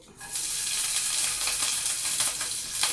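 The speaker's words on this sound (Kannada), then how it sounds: "ಹಸಿಮೆಣಸಿನ್ಕಾಯಿ ಹಾಕ್ಕೊಂಡು ಸ್ವಲ್ಪ ಫ್ರೈ ಮಾಡ್ಕೊಳ್ಬೇಕು." Green chilies hit hot oil and fry with a steady, loud sizzle for a few seconds, broken by a few sharper crackles and pops, with no talking.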